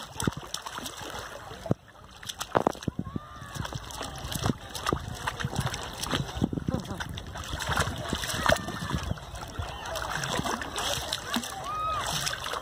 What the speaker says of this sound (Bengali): পাপা সাঁতার কাটো